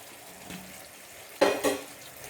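Ghee-fried taro pieces tipped and stirred into a spiced yogurt masala for dahi arbi, giving two short, close scraping and sizzling bursts after a quiet stretch.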